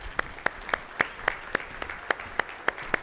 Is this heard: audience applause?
yes